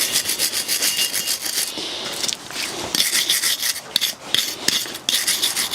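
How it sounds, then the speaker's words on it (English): A BMW F20 front brake caliper bracket is scrubbed clean at the pad contact and mating surfaces, making close, rhythmic rasping strokes that repeat steadily with brief pauses and no talking. "We can now get the caliper bracket cleaned up, both where the pads make contact with and also the mating surfaces as well."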